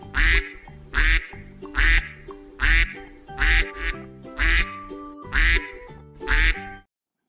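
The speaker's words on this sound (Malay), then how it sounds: "jom kita dengar bunyi itik dan kita ikut sama-sama bunyi itik" A duck quacks in repeated bursts, about nine loud nasal calls in a steady rhythm, close and clear with no talk over it, ending in silence.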